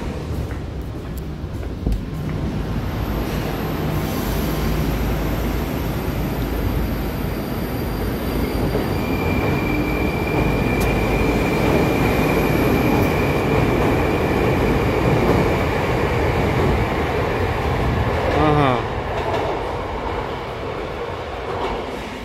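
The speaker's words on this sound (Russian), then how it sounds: "По-моему, какой поезд подъезжает. Ну да. А, нет, наоборот, отправляется." Moscow metro train, type 81-765, pulling out of a station, a loud sustained rolling rumble with rising whine and wheel squeal, brief chirping squeals late on.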